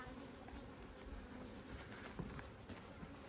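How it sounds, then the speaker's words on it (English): Honey bees buzz steadily around an open hive while honey is being pulled, a dense continuous insect drone with faint handling noises mixed in. "there's a bunch of bees on the ground, and they'll go back to the hive"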